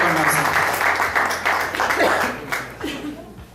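Audience applause welcomes a visiting doctor at an evening talk: moderate clapping with a few voices and faint laughter mixed in, fading toward the end.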